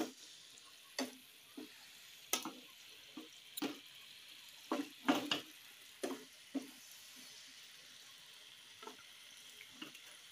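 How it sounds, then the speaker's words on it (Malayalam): Cauliflower frying in a pan for a home curry, with soft, intermittent sizzles and stirring scrapes coming in short bursts over a quiet background, close but low in level. "ഇതിൽ വേണ്ടത് ഈ കോളിഫ്ലവർ ഇട്ട് കൊടുക്കുകയാണ്. ഫ്രൈ ചെയ്ത് എടുക്കാനാണ് കേട്ടോ."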